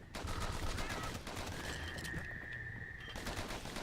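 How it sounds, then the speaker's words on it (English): Rapid dual-pistol gunfire in the action game Bastion, a dense continuous barrage of shots with a faint tonal ring running underneath, loud and steady throughout. "I'm gonna go back to the dual pistols."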